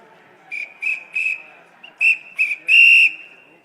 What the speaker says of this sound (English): He's gonna whistle to get people's attention.